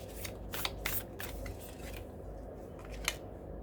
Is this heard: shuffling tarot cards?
yes